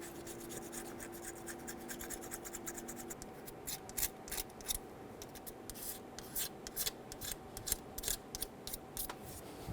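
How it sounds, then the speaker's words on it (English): A razor blade scrapes corrosion off the back of a throttle body during a starter replacement on a 2011-2014 Hyundai Sonata, giving close, repeated short rasping strokes in an irregular rhythm over a faint steady hum. "Using a razor blade or a light abrasive, we're going to go around and scrape all of the corrosion off of the back of the throttle body."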